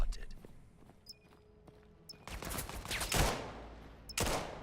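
Gunfire in the competitive VR shooter Vail comes as a few sharp bursts of shots and a rapid volley near the end, between quieter footsteps and clicks.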